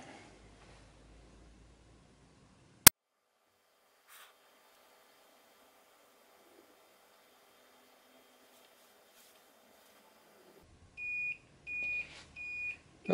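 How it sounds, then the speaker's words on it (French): An assembled LED clock kit sounds its alarm as a series of short, evenly spaced electronic beeps after a long near-silent stretch, preceded by a single sharp click. "l'alarme fonctionne"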